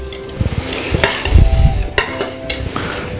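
Venison beer chili with chili powder stirred in a pot, giving close scraping and knocking of a spoon against the pot with a low rumbling churn in the middle, loud and without talk.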